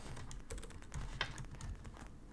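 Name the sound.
typing code on a computer keyboard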